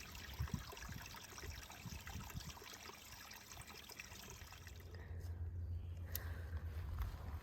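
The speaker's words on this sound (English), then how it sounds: "I found some water on the side of the trail." Faint, steady trickling water beside a spring hiking trail on the Appalachian Trail, a soft continuous babble at a distance with a low rumble growing in the last few seconds, no voices.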